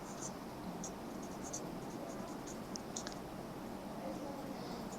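A marker or chalk scratches steadily across a board during a Class 10 math lesson on quadratic equations, a continuous close rasping with small taps and squeaks over faint room noise.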